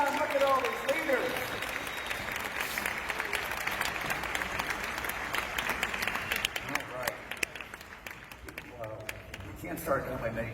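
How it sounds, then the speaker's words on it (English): Big corporate-event crowd keeps clapping and cheering in a sustained, dense roar of applause, with an amplified voice talking over it. "Keep cheering."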